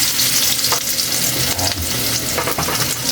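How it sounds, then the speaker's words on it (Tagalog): Ginger sizzles steadily in hot oil in a pan, a loud continuous frying hiss with occasional stirring scrapes, close up and with no talk. "Unahin natin yung luya pag gisa."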